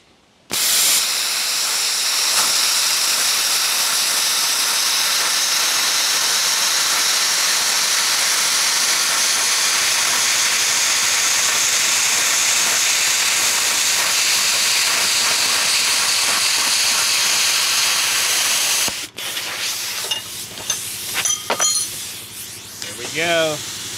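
A BestARC BTC500XP 110V plasma cutter slices through 1/8 inch (11 gauge) steel with a loud, steady hissing roar for about eighteen seconds, then stops; clinks and handling noises follow.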